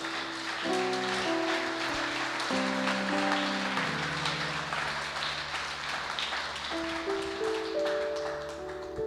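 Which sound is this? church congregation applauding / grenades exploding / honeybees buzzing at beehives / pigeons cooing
church congregation applauding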